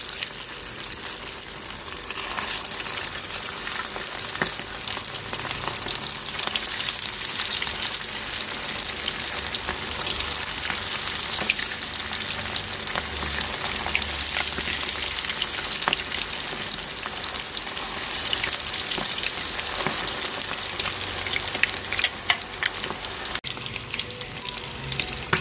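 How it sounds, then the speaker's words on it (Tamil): Chicken lollipops deep frying in hot oil give a dense, steady sizzle and crackle that holds at an even, close level the whole way through, with no voices. "இப்போது எண்ணெய் நல்லா சூடாயிட்டு இப்போ நம்ம சிக்கனை பொரிச்சு எடுத்துக்க வேண்டியதான்"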